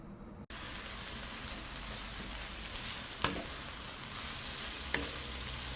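Kechki fish mixed with turmeric, chili, green chilies, onion and eggplant drop into hot oil and fry with a sudden steady sizzle, close and continuous, with a couple of faint clinks.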